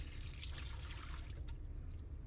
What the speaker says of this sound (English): I like to rinse my glassware with distilled water before I get started